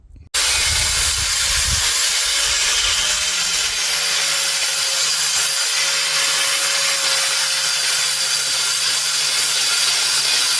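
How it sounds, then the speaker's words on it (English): Steel brackets being power-sanded before welding, a loud, continuous high-pitched abrasive whine and grind that holds steady for the whole stretch after a brief start. "We got our brackets all sanded up."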